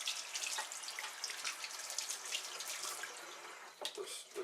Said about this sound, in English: I'm going to rinse my hands off again.